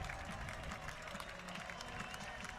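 Steady crowd noise from spectators at a 2023 high school football game between Newcastle and the Blanchard Lions, a continuous roar with scattered cheers and clapping and no clear breaks.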